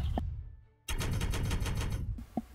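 Rapid automatic gunfire rattles from a video game campaign mission, a dense burst of shots lasting over a second, loud and close, after a brief hush and a few isolated clicks.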